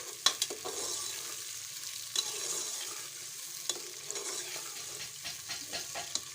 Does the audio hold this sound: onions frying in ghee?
yes